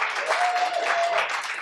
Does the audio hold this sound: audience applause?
yes